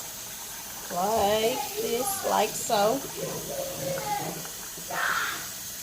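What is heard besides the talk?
tap running cold water to rinse food in sink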